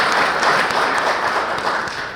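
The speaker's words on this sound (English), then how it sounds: "Let's give Patrick and Dave another round of applause" A conference audience applauds loudly and continuously in a hall, a thick, even wash of clapping that eases slightly near the end.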